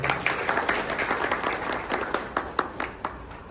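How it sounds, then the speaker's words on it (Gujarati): Sustained audience applause fills a night-time Mochi community meeting in Kadi town, with a dense, steady patter of many hands clapping and a few sharper individual claps standing out, with no talking over it. "તો એ માટે પહેલા સમાજને ખૂબ તાળીઓથી પહેલા વધારી રહ્યા."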